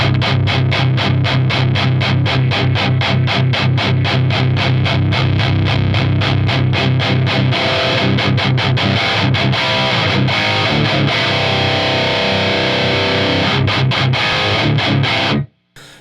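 A heavily boosted, bass-heavy electric guitar through an Electro-Harmonix LPB-3 boost pedal with the bass turned up plays loud, thick chugging riffs and sustained chords for several seconds before cutting off abruptly.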